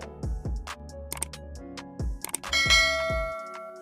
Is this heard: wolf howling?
no